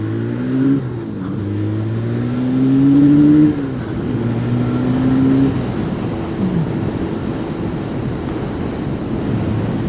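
A car passes on a spring road, its engine note rising as it nears and then sliding lower as it pulls away, loud and close with no talking.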